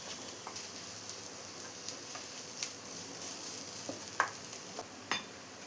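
Crushed ginger and garlic sauté in a pan for a green pea gravy, giving a soft, steady sizzle punctuated by occasional light clicks and scrapes of a stirring spoon, faint and close with no talking.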